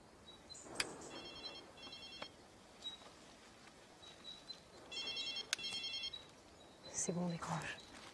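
A telephone rings inside a house in a French horror film, sounding in two distinct bursts of repeated electronic ringing at moderate level, with people talking around it.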